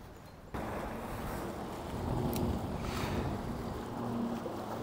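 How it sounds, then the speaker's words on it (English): Wind blows across Cayuga Lake during a bass fishing tournament knockout round, a steady, loud broadband rush with boat-like rumble that swells after the first half-second and holds. "and at least it's windy now."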